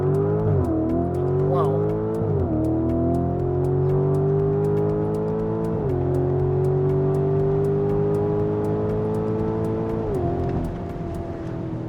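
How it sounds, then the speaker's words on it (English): A Lamborghini Urus SE launches hard in Corsa mode, its engine roaring loudly up through the gears with sharp drops at each quick upshift and continuous acceleration heard from inside the cabin. A voice briefly exclaims. "Let's launch the Lamborghini Urus SE and see what this thing is all about."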